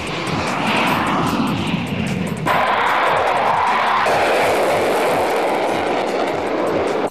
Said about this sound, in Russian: новый двигатель с отклоняемым вектором тяги